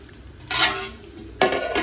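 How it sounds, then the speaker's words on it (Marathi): Khichdi is stirred and sautéed in a pan, with two brief bursts of scraping and clatter from a utensil against the metal, close and alone. "इकडे खिचडी परतली, चांगली आता वाफरून वगैरे घेते"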